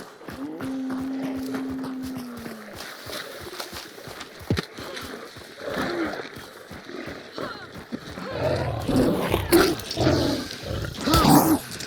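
Hostile dogs in the video game Hunt: Showdown snarl and bark among game noise, with a whine early on and louder bursts toward the end, while players talk over the top.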